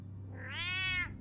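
A cat in the video game Batman Telltale lets out a single drawn-out, rising and falling meow, clear and close over a low background hum.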